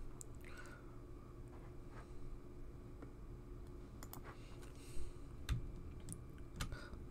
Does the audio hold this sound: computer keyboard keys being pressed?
yes